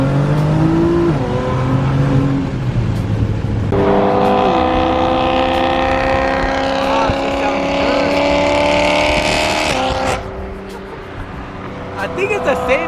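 Revving of a Lamborghini fitted with a Valtronic exhaust: strong engine tones climb and hold, then drop away, with people talking over the sound the whole time.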